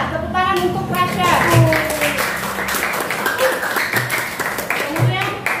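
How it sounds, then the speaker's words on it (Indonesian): Classmates clap for a student during an Islamic religious education lesson, a brisk burst of hand claps mixed with children's voices talking and calling out over it. "Tepuk tangan untuk Rasya."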